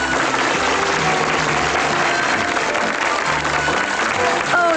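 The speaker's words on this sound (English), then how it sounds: "let's have a nice round of applause for the Incredible Hulk." Studio audience applause for a guest star on a 1981 CBS Captain Kangaroo television special, a steady, fairly loud wash of clapping with music and voices mixed in.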